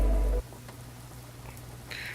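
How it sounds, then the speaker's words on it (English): Steady light rain patters on the aircraft in the X-Plane 12 flight simulator, a soft continuous hiss after a brief loud hum cuts off, with a faint higher tone near the end. "so we can listen to those raindrops"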